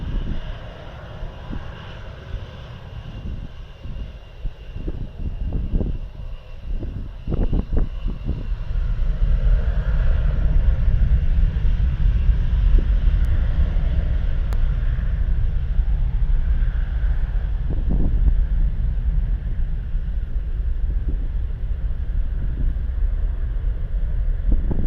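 A Jetstar airliner at Gold Coast airport gives a low, steady engine roar that swells after a few seconds and holds for the rest, heard from a distance with wind buffeting the microphone and a few brief knocks early on.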